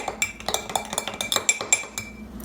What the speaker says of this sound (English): I'm gonna try to stir it in.